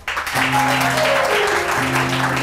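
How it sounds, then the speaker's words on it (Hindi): Audience applause at a weekend show, a dense, loud wash of clapping that swells quickly and holds steady for a couple of seconds, with a few faint voices mixed in. "लोगों को मजा आ रहा है तालियों से बताएं।"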